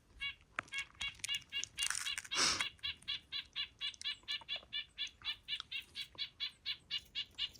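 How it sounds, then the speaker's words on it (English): A bird on the Appalachian Trail gives a long run of rapid, evenly spaced chirps, close and clear, with a brief burst of rustling noise early on. "bird is just talking to me."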